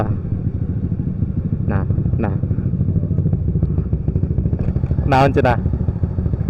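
Four motorcycles ride together to a wedding, their engines producing a steady close mid-pitched drone with wind noise, while riders talk briefly over it and a brief louder burst swells near the end.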